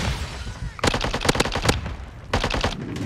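Rapid automatic gunfire from a video game shooter, bursts of loud cracks in quick succession, a long volley followed by a pause and a second shorter burst.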